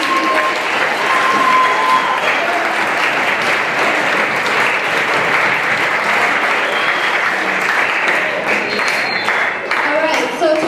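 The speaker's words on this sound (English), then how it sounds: "can you guys join me with a big round of applause for our careers?" Loud, continuous audience applause rises from a crowd at a careers panel, a thick unbroken wash of clapping heard close and full for the whole stretch, with a few voices faintly mixed in.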